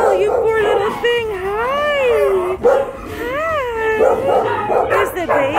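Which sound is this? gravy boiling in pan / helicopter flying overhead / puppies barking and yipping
puppies barking and yipping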